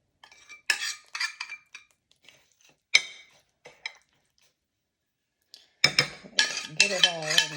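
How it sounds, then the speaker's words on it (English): A spoon stirring Nanaimo bar crust mixture in a bowl, giving irregular scraping clinks in short bursts with pauses between them, then a denser stretch of stirring as a voice starts talking. "we're just going to stir this in here"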